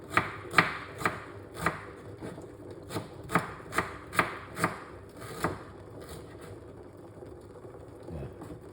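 A knife chops through fresh ginger on a cutting board in a dozen crisp, evenly spaced strokes, close and clear, before the chopping stops and only quiet room tone remains.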